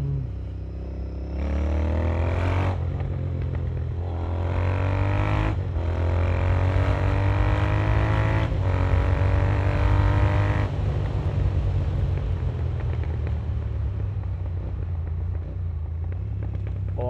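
A Royal Enfield Interceptor 650 Racer fitted with a JBK exhaust tip roars loudly while being ridden, revving up through several gears in repeated rising sweeps, then settling into a steady deep rumble, close and alone without speech.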